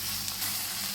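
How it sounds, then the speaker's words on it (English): Bitter gourd stir fry with chili flakes sizzling in a pan, a steady close frying crackle and hiss throughout, with no voices. "So let's cook it for another 2 minutes."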